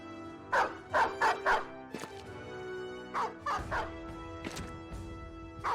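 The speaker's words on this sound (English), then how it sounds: "A scattering of dogs rushed forth, each felled in fairly short order." Dogs in the video game Battle Brothers, charging raiders in a keep courtyard, barking in two quick bursts of three to four sharp barks, near and fairly loud over low background game sound.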